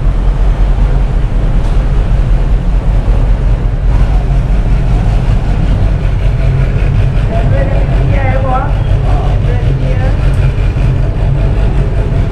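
Penang ferry engine throbbing as the boat crosses with Vespa riders and motorbikes aboard, a loud steady low rumble with wind and water wash, and people talking over it.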